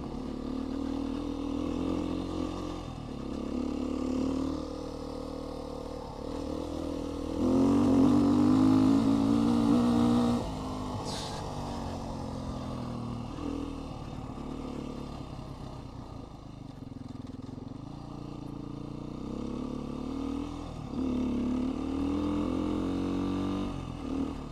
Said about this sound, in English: It's a line of cars going up this,